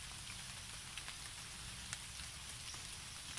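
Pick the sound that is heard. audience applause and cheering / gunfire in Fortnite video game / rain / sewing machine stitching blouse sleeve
rain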